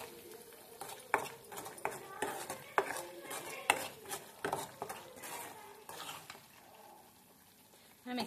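A spoon scrapes and clinks rhythmically through a chicken pickle mixture with chili powder in a pot, repeated stirring strokes close by and moderately faint, easing off toward the end.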